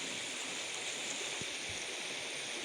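Clear river water in a village stream rushing and gurgling steadily nearby, a constant broadband flow with a few soft splashes and no voices.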